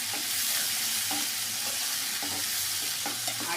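Garlic and radish greens fry steadily in a pan, a continuous close sizzle broken by scraping stirs every second or so, with no talk.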